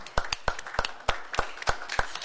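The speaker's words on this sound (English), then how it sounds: "Don't clap for me." Scattered hand claps from a small audience at a commission meeting, a dozen or so sharp, uneven claps spread across a couple of seconds, fairly close and unaccompanied by talk.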